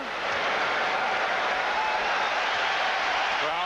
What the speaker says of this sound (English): Crowd with some applause.